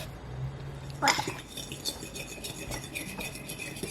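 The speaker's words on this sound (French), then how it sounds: "Moi, je mélange là" A nugget mixture being stirred in a bowl for gluten-free nuggets, with a sharp utensil knock near the start, then soft intermittent scraping and clinking close by, no talking.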